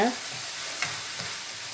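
Goat liver sizzles in a hot pan as pepper-cumin powder is stirred through it for a Jaffna-style gravy, giving a steady close frying hiss with a few soft scrapes of stirring.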